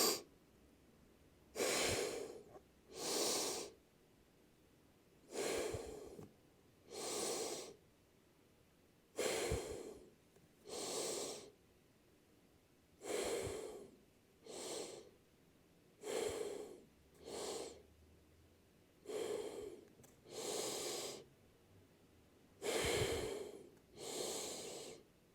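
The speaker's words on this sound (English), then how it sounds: "we're going to do 10 deep breaths with a 2-second hold." Deep nasal breaths during a Hatha yoga class, about a dozen slow inhale-exhale cycles at a steady pace, each breath separated by a short hold of quiet, close and soft with no talking.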